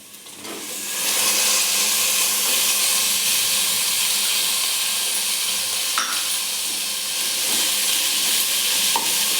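Four finely chopped tomatoes drop into hot oil for plain biryani and fry in a loud, steady hissing sizzle, close up, with faint stirring clicks throughout.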